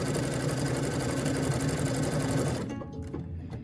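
A Brother sewing machine fitted with a 7 mm walking foot stitches fabric in a fast, steady mechanical whir, close and constant, then suddenly stops, leaving a few small clicks.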